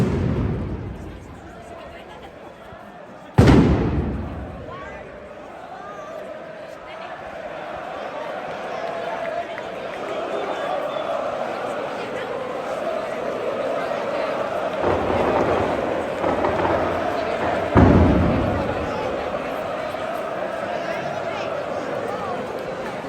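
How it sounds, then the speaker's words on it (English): Fireworks going off with orange smoke during a crowd scene in Seville, Spain: sharp sudden bangs, one early and another later, each followed by decaying rumble over steady crowd noise and people talking. "They got fireworks out."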